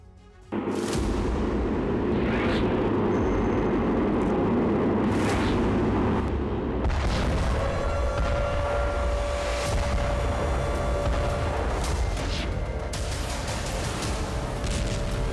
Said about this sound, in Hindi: आसमान से ताबड़तोड़ अंदाज में मिसाइलों से प्रहार।